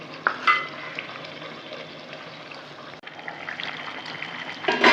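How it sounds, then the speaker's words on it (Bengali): Chicken with whole onions and whole tomatoes frying in a pan, a steady close sizzle with occasional stirring scrapes and clinks, louder bursts near the start and the end, and no one talking. "গোটা পেঁয়াজ গোটা টমেটো দিয়ে আমি কিছুক্ষণ কষে নেব"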